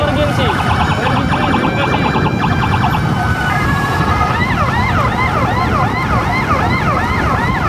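An ambulance siren wails loudly and continuously over road traffic on an emergency patient transfer run during the Lebaran holiday, its pitch sweeping up and down close by, with a voice calling out over it.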